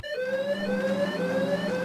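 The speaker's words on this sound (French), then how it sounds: "La porte s'ouvre, la sirène retentit" A steady electronic alarm siren in the video game Home I/O wails continuously with a slightly wavering pitch as a garage door opens, loud and close, no voices.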